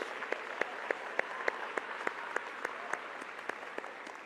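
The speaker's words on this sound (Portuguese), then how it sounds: "Voto de aplausos." A church congregation applauds during a Portuguese-language service, with a wash of clapping under a run of sharp, evenly spaced louder claps keeping a steady rhythm.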